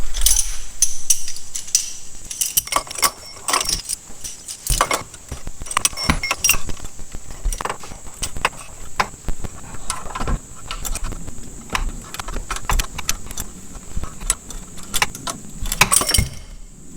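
Metal puller being worked to remove an A/C compressor clutch pulley, giving repeated close, sharp metallic clicks, clinks and rattles that continue steadily through the clip with no talking.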